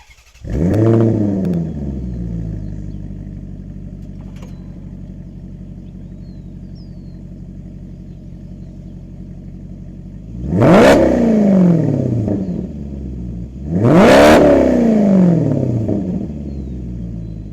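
A Maserati GranTurismo engine idles with a deep rumble, then revs hard three times to about 4,500–5,000 RPM, each rising to a loud roar before dropping back to idle.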